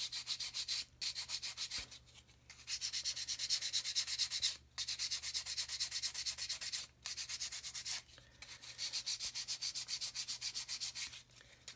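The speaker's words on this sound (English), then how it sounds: "just gonna sand it until I start to see that pen start to disappear" A plastic part of a 1/72 scale Das Werk U-boat U-9 model is sanded level in repeated rhythmic rasping strokes, close and fairly loud, broken by a few short pauses.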